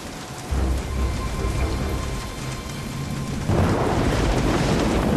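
Heavy rain pours steadily through a stormy scene in the Jurassic Park video game, with deep rolling thunder underneath and a louder surge of downpour toward the end.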